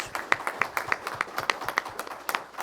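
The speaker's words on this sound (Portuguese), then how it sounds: "eu quero uma salva de palmas para o nosso companheiro João Vicente" Applause at a ceremony honouring the 80th anniversary of the Brazilian Labour Party (PTB), a brief patter of hand claps from a modest crowd, fairly close and uneven in rhythm.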